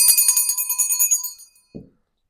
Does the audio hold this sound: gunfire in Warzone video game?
no